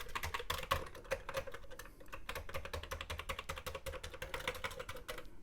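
Rapid keypresses on a Commodore C16 computer keyboard, a close, dense run of clacking taps with short pauses, heard alone without talk.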